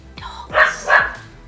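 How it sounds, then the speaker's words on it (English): Two short dog barks a short way off inside a van-layout planning session, each a bright burst with a quiet gap between, standing alone with no talk over them. "Dogs."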